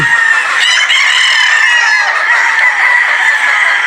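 Broadhead and sweater gamefowl at a game farm cluck and crow loudly and nearby, with overlapping calls forming a continuous, busy chorus and no voices over it.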